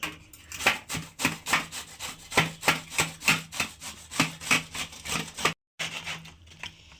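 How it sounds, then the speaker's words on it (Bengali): Peeled mango rubbed against a hand grater, giving about fifteen evenly spaced rasping strokes in a steady back-and-forth rhythm, close and clear, with a brief pause near the end. "এই আমি ঘষনি দিয়ে আমটাকে আমি ঘষে নেব পুরো আমটাকে"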